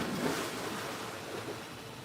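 Steady splashing and rushing water from a backyard pool waterfall, a broad continuous wash that stays even and fairly loud throughout with no voices over it.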